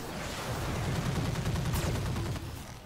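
Mech weapons in the Roguetech video game fire in a dense, continuous burst of rapid crackling shots lasting a few seconds, moderately loud with no talk over it.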